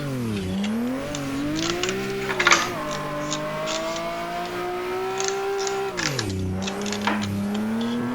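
Car engine revving hard and accelerating out of a corner in second gear at Ebisu Minami drift circuit, pitch rising and dipping with throttle, loud and continuous with brief tire scrubs.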